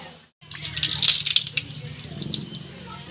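Cold water running from a motor-driven tap at a Pakistani family's rural home in Punjab: a brief silence, then a splashing, gushing stream with droplet spatter, fairly close, with speech around it.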